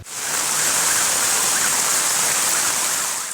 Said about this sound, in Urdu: بارش بھرے بادلوں نے کراچی کو دھو ڈالا، ٹھہر ٹھہر کر برسنے لگے